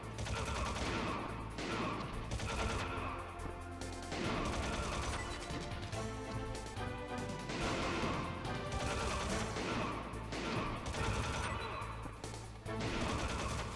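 Gunfire in a Metal Gear Solid boss fight, sustained rapid shots and crashes layered over a dense, loud game soundtrack for the whole stretch, with no clear pauses.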